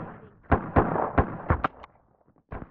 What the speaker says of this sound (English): Shoot him in the shins.